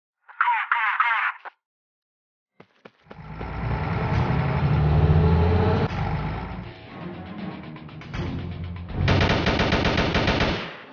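Rival Fire video game battle: an engine rumble of a troop transport vehicle with crackling gunfire, following a brief beeping sound, then a dense burst of rapid shots at the end, loud and continuous.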